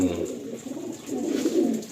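Andhra pigeons in a loft give low, rolling coos close by, with a voice speaking faintly over the steady murmuring calls.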